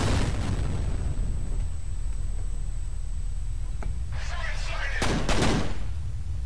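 Grenade explosions in the shooter game F.E.A.R. 3, a heavy blast at the start, then rumbling, and a pair of sharp bursts near the end over steady game background noise.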